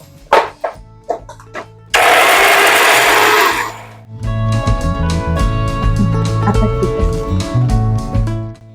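Electric mixer grinding garlic and coconut chutney, switched on and off in short bursts, then a steady loud whirring grind that runs for several seconds with rattling, alone without talk.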